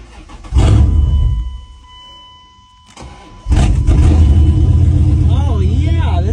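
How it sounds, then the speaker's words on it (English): An old Dodge truck engine cranks and catches loud and close, drops to a lower lull, then fires again into a strong, steady running rumble. "Oh yeah, this thing fired right up."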